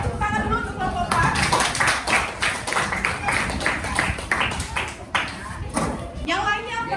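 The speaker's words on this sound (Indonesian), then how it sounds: "beri tepuk tangan dulu untuk kelompok 4" Students in a classroom clap for a group about to present, with a dense, close patter of hands under ongoing talking voices.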